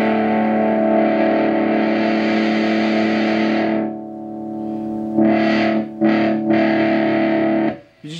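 Electric guitar through a Digitech Crossroads pedal with high gain, a loud, heavily distorted sustained chord that drops out, then returns in a few choppy bursts before fading.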